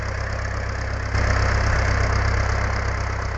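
Fordson Super Major tractor engine working under load while ploughing, a steady loud diesel chug that steps up in revs about a third of the way in and holds there.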